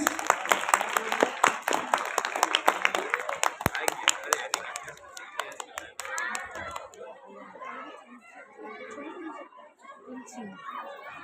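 At a school prize ceremony an audience claps, with a burst of sharp, dense clapping up close at first that fades into crowd chatter and children's voices, with a few scattered claps remaining.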